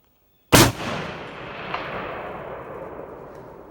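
A .300 Win Mag Falkor rifle fires a single shot at an outdoor range, a sharp, loud crack right after a moment of silence, followed by a long rolling echo that slowly fades.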